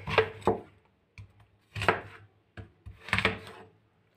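Knife chopping food on a wooden cutting board in a home kitchen, three distinct bursts of quick, close cuts separated by short pauses, with soft knocks in between.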